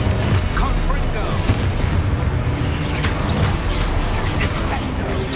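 A Confringo fire spell is cast in Hogwarts Legacy amid rolling booms and crackling blasts that blend into a loud, continuous wash of explosive noise.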